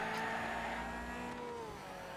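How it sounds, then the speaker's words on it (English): A damaged car in the racing game Wreckfest makes a strained, droning engine whine with grinding harmonics that slowly sag in pitch, steady and fairly loud. "There are bad noises coming from the car."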